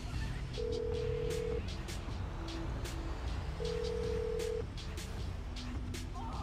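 Phone ringing in Grand Theft Auto 5, two long electronic ring tones with a short pause between them, heard over a low rumble of in-game ambience.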